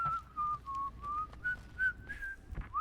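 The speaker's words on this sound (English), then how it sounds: "What's with the whistling?" A character whistles a wandering, steady tune in the video game Guardians of the Galaxy, clear and fairly close but quiet, with faint game ambience underneath and no talk.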